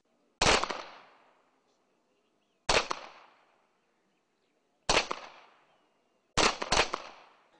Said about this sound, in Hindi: लाहौर की फजा गोलियों की थरथराहट से गूंजती रही